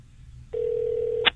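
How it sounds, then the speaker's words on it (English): A telephone call is placed: silence, then a steady electronic ringing tone holds for most of a second before cutting off with a brief click. "I'm gonna call Maggie back and get her back on the line"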